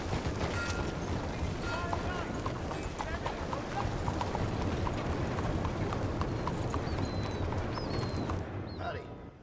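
Horse hooves clip-clop steadily and close in Red Dead Redemption, a continuous rhythmic plodding over ambient outdoor noise with faint bird calls, fading slightly at the end.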